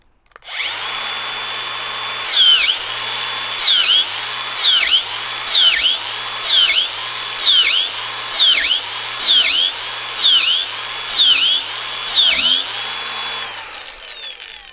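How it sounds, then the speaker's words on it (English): An angle grinder fitted with a drill-bit adapter and a 12 mm bit bores holes into a log for mushroom inoculation. A high-pitched whine rises about ten times in short, evenly spaced bursts over a steady motor drone. "In order to drill this log, we're going to be using this angle grinder with the tools that I mentioned, so the adapter and the 12 millimeter bit."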